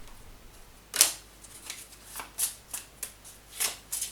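A Vera Sibilla tarot card deck is shuffled close by, giving a series of soft, crisp riffling bursts at uneven intervals against a quiet room.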